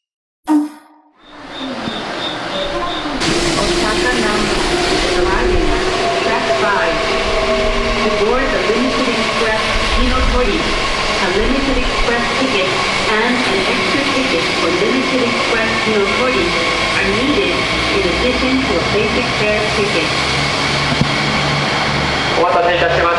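A new Kintetsu Hinotori limited express on the Nagoya–Osaka line pulls into the station bound for Osaka Namba, a loud, steady rumble with whining tones lasting throughout, with voices heard over it.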